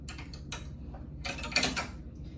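A shirt held in a magnetic hoop slides onto an embroidery machine, giving a few sharp clicks and a rattling scrape close by, with quiet gaps between them and no voices.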